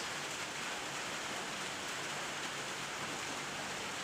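Heavy rain pours down at night during strong winds that brought down a breadfruit tree, a dense, constant roar of rainfall hitting surfaces with no voices.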